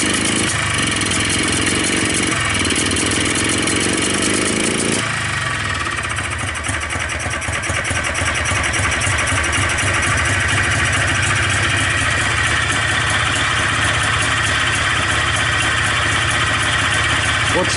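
Polaris Xplorer 250 engine fitted with a Yamaha Blaster carburetor, choke on, running steadily up close with a buzzy, rattling idle that shifts in tone partway through and then holds continuous.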